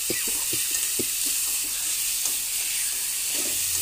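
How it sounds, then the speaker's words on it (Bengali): Fish frying in hot oil in a wok gives a steady, loud sizzling hiss, with a few soft knocks and clicks early on from handling in the pan. "কড়াইতে তেল গরম হচ্ছে, তো এখন আমি মাছটা দিয়ে দিচ্ছি।"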